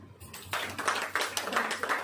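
A church congregation clapping hands during a sermon, a quiet burst of many overlapping claps starting after a brief pause and continuing steadily.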